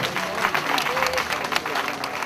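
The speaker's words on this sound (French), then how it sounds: "On applaudit très fort Nana Bengben." An audience applauding loudly at a political gathering in Côte d'Ivoire, with steady dense clapping and crowd noise throughout, with some voices rising within it.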